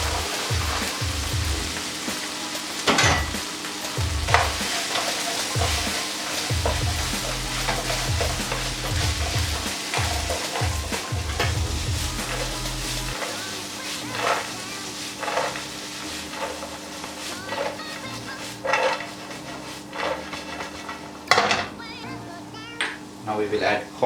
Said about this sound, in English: now we will be adding the fried soy